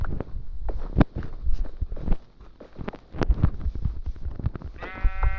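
A sheep bleats in Minecraft near the end, after a stretch of scattered thumps and footstep-like hits.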